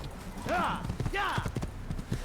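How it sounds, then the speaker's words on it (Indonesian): Horse hooves clip-clopping at a gallop in the video game Assassin's Creed 1, a quick steady rhythm of close, distinct hoofbeats with voiced sounds layered over them. "Ya, kita langsung berangkat aja pakai kuda kita."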